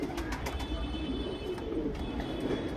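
A male Sabja cheni pigeon coos softly and continuously nearby in a loft, its low murmuring steady under faint background birds and ambient hiss, with no talking.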